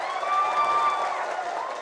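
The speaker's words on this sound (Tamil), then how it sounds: "ஒரு வாட்டி நீங்கள் விமல் அண்ணனுக்காக நீங்கள் கைத்தட்டணும்னு நான் கேட்டுக்கிறேன்" An audience at a music and trailer launch for the Tamil film Badava briefly applauds and cheers, a short burst of crowd clapping with some tonal ringing above it.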